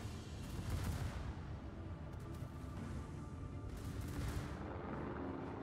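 Warship main guns firing in World of Warships, a muffled, rolling boom of cannon fire swelling under a steady low rumble, heard at moderate distance without talk.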